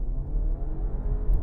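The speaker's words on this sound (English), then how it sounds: "left foot on the brake, floor the throttle, holds the revs, release the brake." A 2021 Audi Q5 launching under launch control in sport mode gives a short, loud, rough engine roar that holds steady and close throughout.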